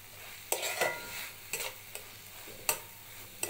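Helencha greens fry in a pan with a low sizzle, broken by several sharp scraping clicks from stirring at irregular intervals.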